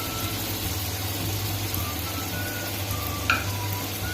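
Cumin and a black cardamom pod fry in a cube of melted butter, giving a steady, even sizzle that stays close and continuous, with a faint low hum underneath.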